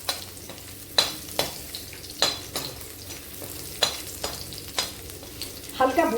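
Garlic and red chilies fry gently in oil under a steady low sizzle, while a spoon scrapes and taps the pan in a regular stirring rhythm about every half second, heard up close without speech.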